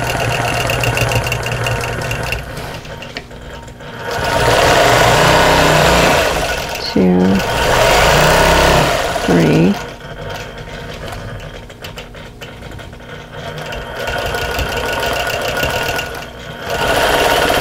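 A sewing machine stitching lines on a butterfly quilt block, its loud, fast mechanical whirring running in bursts with brief pauses between seams, while someone talks over it.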